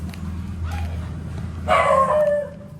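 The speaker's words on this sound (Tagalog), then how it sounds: "mga aso ni Kiray." A dog gives a single short bark over a low background hum, fairly close.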